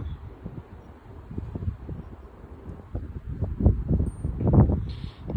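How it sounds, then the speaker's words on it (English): Outdoor wind gusts rush and rumble past, building in strength toward the end with low buffeting noise on the microphone and a faint rustling hiss. "Alright, more wind coming toward the center."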